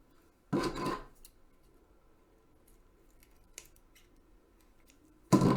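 Tape is cut and torn while it is wrapped onto a broomstick sword: two sharp ripping bursts, one near the start and one at the end, with quiet pauses and a faint click between them.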